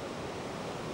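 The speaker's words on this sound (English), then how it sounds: "We came upon this wonderful waterfall that went back into the forest" A forest waterfall pours in a steady, dense, even rush of falling water, close and continuous, with no voices.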